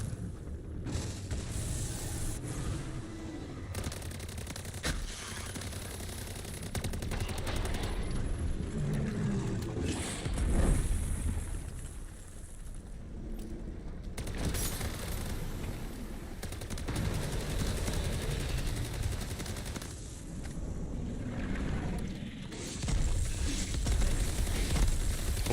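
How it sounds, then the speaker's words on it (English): Sustained automatic turret fire in MW3 Zombies, a dense, loud, rattling stream of rapid shots with mechanical clatter that keeps going in long bursts with brief dips. "I really want to use this turret if I can."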